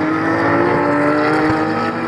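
Porsche race cars of the Itris Racing team roar past on the Ledenon racing circuit, a loud, steady high-revving engine drone that holds for about two seconds, close and dominant.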